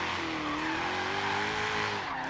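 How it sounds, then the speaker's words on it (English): A car drifts in Forza Horizon 3, a Vaughn Gittin Jr. RTR Mustang recreation run in long gears at low revs, giving a sustained tire squeal over a steady engine drone, continuous and loud with no talking. "now let's get to some drifting without having to worry about freaking cars getting in our way"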